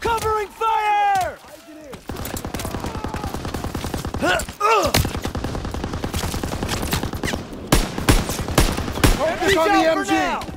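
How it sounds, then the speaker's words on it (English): Call of Duty WWII gameplay on Hill 493 carries sustained machine gun fire, rapid bursts hammering through most of the stretch with shouted soldier voices breaking in at the start and end. "Gotta suppress the machine gun!"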